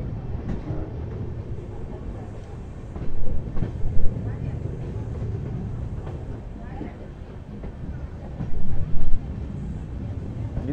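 The Bengaluru-Tirupati Intercity Express rolls along with a continuous heavy rumble and rattling, periodic bursts of louder clatter from wheels over rail joints, heard close and steady throughout.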